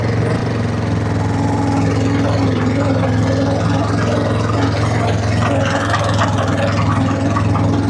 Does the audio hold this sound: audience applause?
no